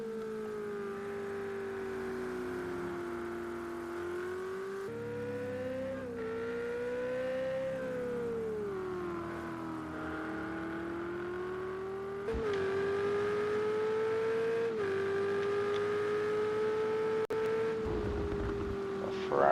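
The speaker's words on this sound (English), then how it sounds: "Sweatridge out on the track in his Ferrari." A Ferrari GTE race car in a racing game drives around the Spa-Francorchamps Grand Prix circuit. Its engine drones steadily, rising and falling in pitch through gear changes, with a few sharp clicks and a brief tire squeal.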